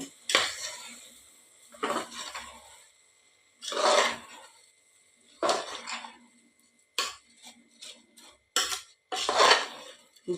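A spoon scrapes and clanks against a pot while a rice mixture for a breakfast dish is stirred, in separate bursts of metallic scraping with short quiet gaps between strokes.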